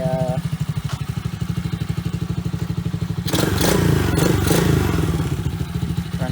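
A pit bike engine idling close by with a steady, even throbbing pulse that swells louder midway as the throttle is blipped, then settles back to a loud idle, heard alone without speech.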